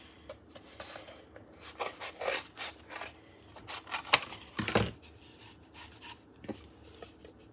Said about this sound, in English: So you're going to cut this tube just under this lid.